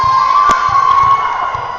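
A packed high school gym crowd at a girls' club volleyball match cheers and screams continuously, loud and close, with a sustained high-pitched whistle-like tone running through.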